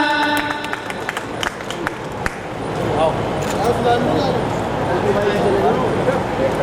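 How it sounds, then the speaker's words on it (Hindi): Loud crowd applause at a school retirement function, a dense, sustained wash of clapping that swells after a few sharp claps and continues steadily under a murmur of voices. "जोरदार तालियां"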